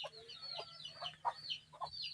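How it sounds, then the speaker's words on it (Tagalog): Newly hatched native chicks peep and chirp close by in quick, irregular bursts, faint but clear against a low steady hum. "Ito pala yung aking manok na bagong pisa."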